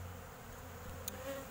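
Honeybees flying around a hive colony on seven frames, a steady close buzzing hum with a brief sharper flyby near the end, no voices.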